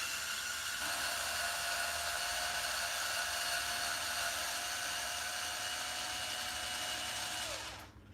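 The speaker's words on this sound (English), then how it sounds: "Now glad I got the electric driver." Electric screwdriver driving long screws into a no-prep dragster build, a steady high whine holding for about seven seconds before winding down near the end.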